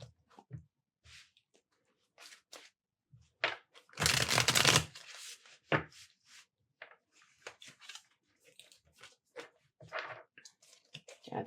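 Tarot reading cards are shuffled close up: scattered soft flicks and taps, then a dense riffling burst of about two seconds, followed by more light card clicks, with no talk.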